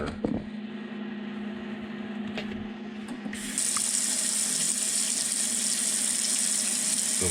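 Water trickles into a chicken egg incubator to raise its humidity, first a light pour, then a louder, steady rush like a running tap that carries on to the end.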